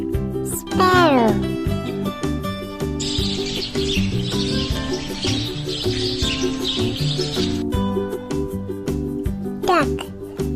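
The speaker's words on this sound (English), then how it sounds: "Sparrow." Sparrow chirping: quick high twittering calls in a few short bursts and a busier chattering stretch in the middle, all over steady background music.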